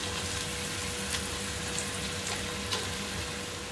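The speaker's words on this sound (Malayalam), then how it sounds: "ഇനി നമ്മൾ ഇതിലോട്ട് വെള്ളം ആഡ് ചെയ്ത് കൊടുക്കുന്നു" Water pours steadily into a pot of frying onions and carrots for Kozhikode mutton biryani, a continuous close rushing hiss mixed with bubbling and sizzle, with no talk.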